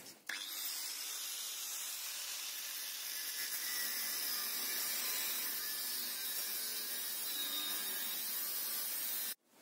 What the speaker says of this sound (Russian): И вот эту пластину отрежу,